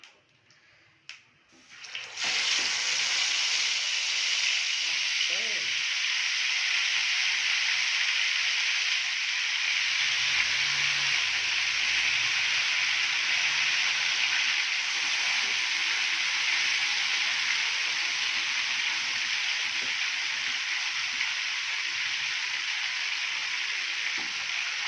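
Tandoori chicken pieces go into hot oil and set off a loud, steady sizzle that hisses without pause for a long stretch, after a few soft clatters at the start.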